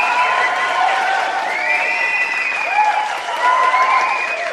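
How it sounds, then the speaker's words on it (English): Audience applause and cheering from a live crowd, steady and dense clapping with a few whoops rising through it, loud and close throughout. "I applaud you for applauding me."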